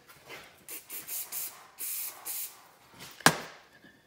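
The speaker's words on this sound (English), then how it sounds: "we'll spray that out with some brake cleaner here" Brake cleaner sprayed through a jet from a Ski-Doo 583 snowmobile carburetor, heard as a series of short hissing aerosol bursts close by, followed by a sharp metallic click near the end.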